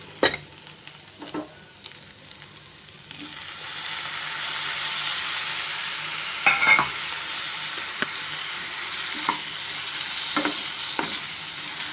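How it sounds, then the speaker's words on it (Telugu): Tomatoes fry with fenugreek leaves in a pan, a continuous close sizzle punctuated by scattered clinks and scrapes of a spoon stirring against the metal. "టమాటాలు వేసి నిమిషం వేయించిన తర్వాత తీసుకోవాలి"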